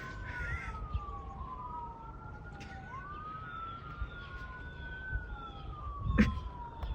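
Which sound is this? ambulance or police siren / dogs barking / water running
ambulance or police siren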